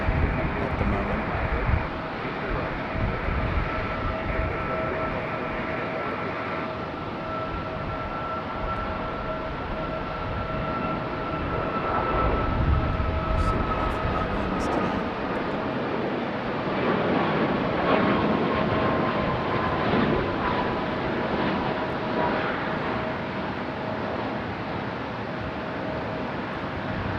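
A United airliner at Raleigh-Durham airport in gusty wind gives a steady, broad engine roar with faint whining tones that lasts the whole stretch, mixed with buffeting wind noise on the microphone.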